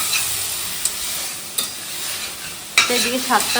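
Oil sizzles steadily in a pan, with a few sharp clinks of utensils and a stirring scrape near the end.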